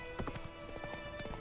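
Roach, Geralt's horse in The Witcher 3, trots along with steady, crisp clip-clopping hooves at close range over a constant tonal game backdrop.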